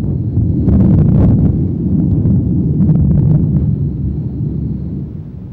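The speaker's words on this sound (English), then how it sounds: "the heavens open to the most amazing tropical thunderstorm" Tropical thunderstorm in Malaysia in the afternoon gives a loud, low rumbling roar, close and continuous for a few seconds before easing slightly, with no voices.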